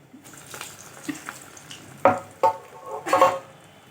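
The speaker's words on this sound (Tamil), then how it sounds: "கொஞ்சம் பொரியட்டும் இப்போங்க கோல்டன் ப்ரௌன் கலர் ஆகிருக்குது" Karamani vadai, cowpea fritters, deep-frying in oil, soft crackling sizzle with a few sharper bubbling bursts and clinks close by, fairly quiet between the louder pops.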